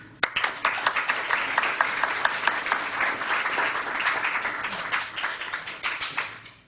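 Audience applause welcoming speaker John Weir, a dense steady wash of many hands clapping that holds for several seconds before thinning at the end.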